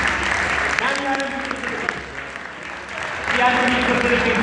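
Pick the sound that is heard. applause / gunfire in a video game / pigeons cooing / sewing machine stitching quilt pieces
applause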